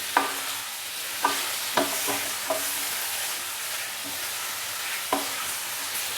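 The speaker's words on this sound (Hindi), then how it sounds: "प्याज के साथ ही हम इसके अंदर बीफ का गोश्त डाल देंगे। बीफ का गोश्त डालने के बाद अच्छे से हम इसको मिक्स करेंगे।" Bone-in beef and chopped onion sizzle steadily in a pan, with a few sharp scrapes and knocks from stirring at irregular intervals, close and fairly loud, with no talking.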